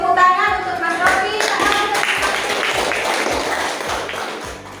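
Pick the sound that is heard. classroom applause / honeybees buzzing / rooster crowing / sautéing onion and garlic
classroom applause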